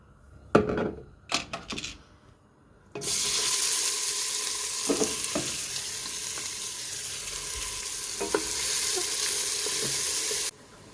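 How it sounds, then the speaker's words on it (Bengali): Onion and garlic hit hot oil in a pot with a sudden loud, steady hiss that holds for several seconds, after a few knocks and clatters of cookware. "আজকে একটু পেঁয়াজ রসুন বাইজা তারপরেই বসাইতেছি"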